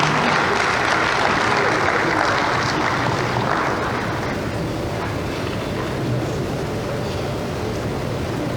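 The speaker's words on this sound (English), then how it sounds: "please welcome with applause Lady Dr. Ada Chukwudozie" Audience applause at a South East Vision 2050 forum in Nigeria, a sustained wash of clapping from a large crowd, steady and moderately loud, slowly easing over about eight seconds.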